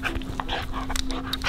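A dog pants in quick, breathy bursts mixed with short whimpers, close by, over a steady electrical hum.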